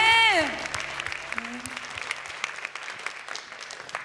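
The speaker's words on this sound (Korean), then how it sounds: "주님께 최고의 경배의 박수 올려드립시다" Church congregation at a worship and testimony gathering breaking into applause, a scattered but continuous patter of clapping that follows a loud sung or spoken phrase at the start.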